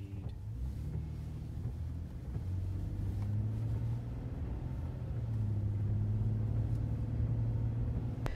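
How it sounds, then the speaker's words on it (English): A car drives through a snowy Rocky Mountain National Park, heard from inside as a steady low engine and road rumble that swells slightly partway through, with no talking. "we are driving through a very snowy Rocky Mountain National Park"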